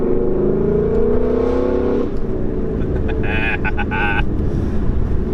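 Throaty V8 engine note of a 2016 Ford Mustang GT with 50,000 miles rising and holding in a rev for about two seconds, then settling into idle rumble with some higher-pitched mechanical whine.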